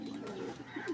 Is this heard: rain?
no